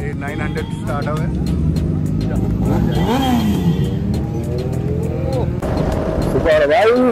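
A Kawasaki Z900 superbike fitted with a bass-heavy aftermarket exhaust starts up and revs during a Sunday group ride, a low engine rumble running beneath continuous loud chatter from several people nearby.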